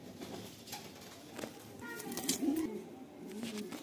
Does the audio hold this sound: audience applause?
no